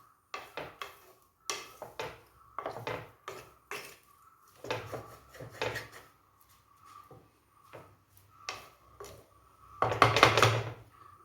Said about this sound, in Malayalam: നമുക്കൊന്ന് ഇളക്കിയിട്ട് കൊടുക്കാം.